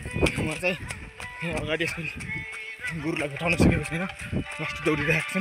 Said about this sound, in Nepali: बाख्रा यसरी कराइरहेको छ।